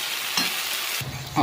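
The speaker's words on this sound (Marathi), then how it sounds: "एकदा हलवून घेऊया आणि जसं लागेल तसं पाणी वाढवीत जाऊया." Curry being stirred in a hot pan with garam masala and salt, giving brief scraping and sizzling strokes close by, two distinct stirs over a steady frying hiss.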